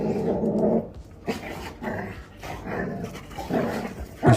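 A dog growls and snarls in repeated bursts while chomping at another dog, with rough throaty rumbles and mouthy snaps coming in uneven clusters up close.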